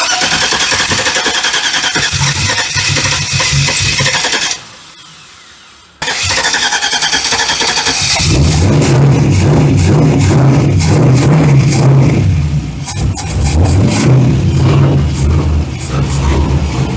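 Car engine with a homemade exhaust and loosely fitted mufflers cranking, running loudly, cutting out briefly, then firing up again and revving rough and loud.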